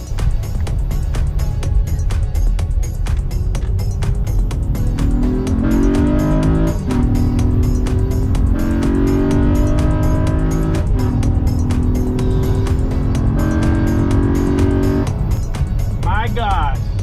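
A car fitted with an AEM intake revs hard. The loud engine note climbs in repeated rising sweeps with brief drops between gear changes, and voices are heard underneath.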